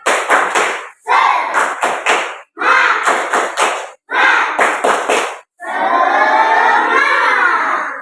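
A classroom of students performs the 'tepuk semangat' clapping chant, loud rhythmic bursts of clapping and chanted shouts in short phrases separated by brief pauses, ending in a longer drawn-out group cheer.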